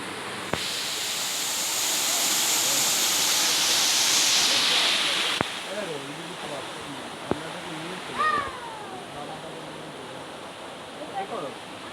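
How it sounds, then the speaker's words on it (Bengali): Dharagiri waterfall near Ghatsila roars with broad, steady rushing water close by, swelling slightly, while voices and brief outdoor noises come through underneath near the end. "আপনাদের জন্য রেখে দিচ্ছি ধারাগিরি ফলসের ভিডিও।"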